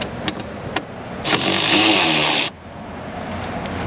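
A car engine starts by itself with the key off: a couple of sharp clicks, then a loud, close crank and roar for about a second before it cuts off abruptly, leaving a quieter background.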